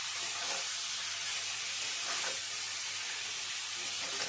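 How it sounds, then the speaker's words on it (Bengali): Chicken frying in a pan with salt, giving a steady broadband sizzle and hiss that stays fairly constant, with slight swells as the pieces are moved, and no voices. "বেশি ভাজবো না, সামান্য একটু ভাজবো"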